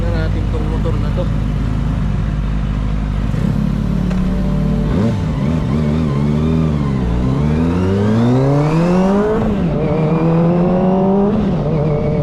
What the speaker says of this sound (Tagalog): Subukan na natin tong motor na to.